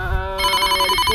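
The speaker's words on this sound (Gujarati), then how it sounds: "ફોન વાજી રહ્યો" A phone rings with a bright electronic ringtone, steady repeating tones sounding close and loud, with no voices over it.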